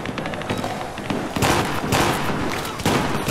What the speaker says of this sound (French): Tire de couverture.